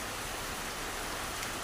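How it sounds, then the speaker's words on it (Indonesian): Steady rain falls at a hillside campground, a continuous even hiss of drops close around, with no voices or other sounds breaking through. "masih tetap hujan"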